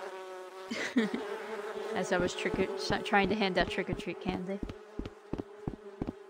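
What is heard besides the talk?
buzzing bees in Rec Room video game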